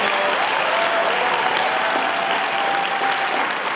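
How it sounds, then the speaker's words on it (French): A debate-competition audience in Lille breaks into loud, sustained applause, a dense wash of clapping that fills the hall steadily from start to finish with no talk over it. "je demande qu'on les applaudisse très très fort maintenant"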